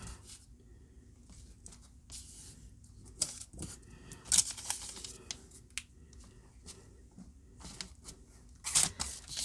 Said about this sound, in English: Gail starts out with some stamping on the background